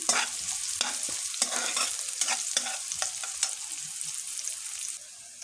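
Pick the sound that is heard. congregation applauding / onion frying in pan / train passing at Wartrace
onion frying in pan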